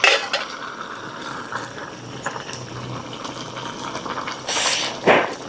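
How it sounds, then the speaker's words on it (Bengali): Plantain flower boiling in a covered pot, the lid lifted partway through: a steady low bubbling wash with a brief clatter and a rush of steam and bubbling near the end, no talk. "মোচা সিদ্ধ করতেছি। এখন ঢাকনাটা উঠায় দিই।"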